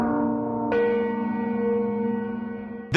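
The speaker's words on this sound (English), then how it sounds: "the new year is welcomed with the chime of the Ferrix anvil gong" The Ferrix anvil gong from Andor rings out, a sustained metallic tone with a second strike partway through that swells and slowly decays, followed by a sharp hit at the end.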